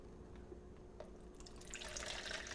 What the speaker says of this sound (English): So now we're going to pour out the developer.